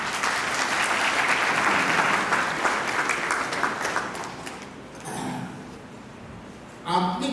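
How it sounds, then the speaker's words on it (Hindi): A large audience at a Christian youth camp Bible study in Amritsar breaks into loud, sustained applause that gradually thins and fades, followed by brief speech. "ताली मारिए।"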